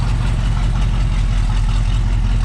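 Exhaust of a 1967 Pontiac Firebird 400 convertible idling up close, a deep steady throaty burble with a loud, even low rumble and no voices.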